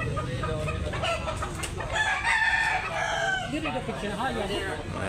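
A rooster crows nearby on a Cebu farm, its rising call cutting through a noisy background, with other chickens clucking and a voice murmuring faintly.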